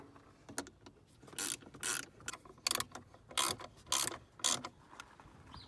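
Close ratcheting clicks and short mechanical rasps as screws are loosened on a windshield wiper motor; about seven or eight quick bursts in an irregular rhythm, faint, with no talking.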